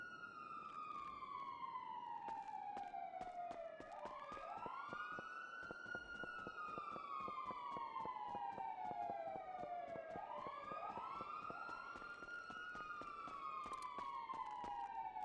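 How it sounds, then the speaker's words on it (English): Emergency vehicle sirens wail in long rising and falling sweeps, repeating about every six seconds, steady and fairly loud with overlapping tones and a rhythmic clicking underneath, no talking. "I can still hear the sirens."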